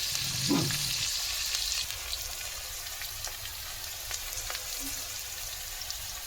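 Pitha and potatoes fry in a pan with a steady, close sizzle that runs throughout, joined early by a brief stirring scrape.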